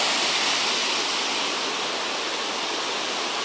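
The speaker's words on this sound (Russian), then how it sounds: "Находится каскад из трех водопадов. Вот первый каскад." A cascade of three waterfalls on a small river roars steadily and loudly nearby, a dense unbroken rush of falling water with no voices.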